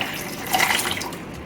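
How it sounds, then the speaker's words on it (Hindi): A glass of cold water is poured into lychee juice with ice, giving a brief splashing, gurgling pour that swells in the middle and fades out. "ये 1 गिलास ठंडा पानी लिया है, इसे भी हम इसी के अंदर डाल देते हैं"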